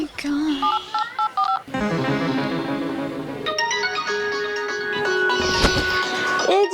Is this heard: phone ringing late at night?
yes